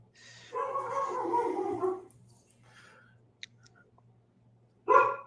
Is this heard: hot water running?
no